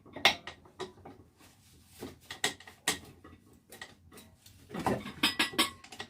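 A whisk works through chocolate ganache in a bowl, giving quiet, irregular clinks and ticks of metal against the bowl, grouped in short bursts with soft pauses between them.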